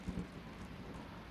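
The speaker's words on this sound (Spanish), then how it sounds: "¡Ay, la tormenta, pa!" Faint thunderstorm with a low, steady rumble and a soft wash of rain across the whole short stretch, with no clear individual crack.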